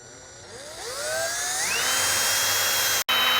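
A small 1/16 inch drill bit bores a hole in a rear brake part of a 2021 ZX-10R, its high whine climbing in pitch as the drill spins up, then holding steady with one brief cut-out near the end.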